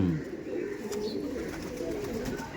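Soft, steady cooing from high-flying giribaj pigeons at a home loft, a low continuous murmur with a brief brighter call near the start.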